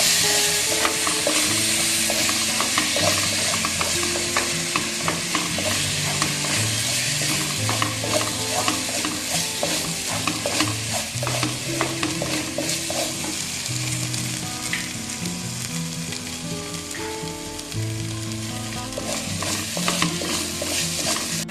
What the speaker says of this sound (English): we'll cook this ginger garlic paste also very well along with the onions till the raw smell disappears